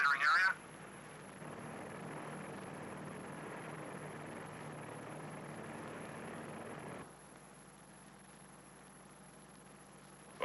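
Propeller drone of a P-2V patrol aircraft flying over a nuclear test area, a steady broadband engine roar that holds for about six seconds and then drops to a quieter, duller hum.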